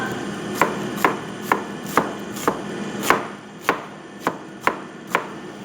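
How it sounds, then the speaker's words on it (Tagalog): Onion being chopped on a cutting board, about a dozen crisp knife thuds at a steady, unhurried rhythm, close and clear with nothing else heard. "Kagayat pa ako ng sibuyas."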